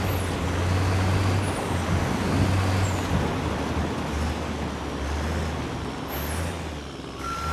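A vehicle drives through an open world in Ghost Recon Wildlands, with a steady rumbling engine and road noise, brief higher whines overhead, and no voices.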